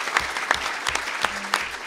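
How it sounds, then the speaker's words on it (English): A panel-event audience at a city club in Chicago gives a short burst of applause, with close, distinct hand claps in a quick, uneven patter. "Round of applause."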